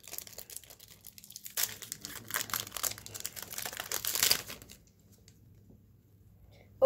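A Pokémon card booster pack torn open, with several seconds of crinkling foil and tearing wrapper, close and fairly loud, then quiet.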